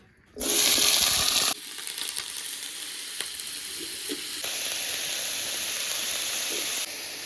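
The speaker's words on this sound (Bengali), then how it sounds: "এখন ওলকপি আর আলুটা তেলের ভেতর ডাইরেক্ট দিয়ে দেবো" Kohlrabi and potato pieces dropped into hot oil in a wok, a loud burst of sizzling that settles into a steady, close crackle and hiss with no talking.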